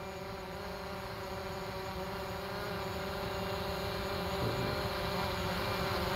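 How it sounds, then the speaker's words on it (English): A DJI Mavic drone hovers with a steady, high, even propeller buzz. It sounds faint and distant and holds a constant drone throughout with no talking. "So now I'm gonna take the drone out of active track"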